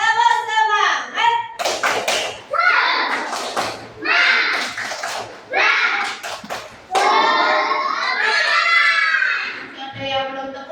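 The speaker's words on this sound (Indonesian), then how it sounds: "Tepuk semangat." Young primary-school children in a classroom doing a rhythmic spirit clap, sharp group claps in patterned bursts mixed with chanting voices and a teacher's cues, loud and close.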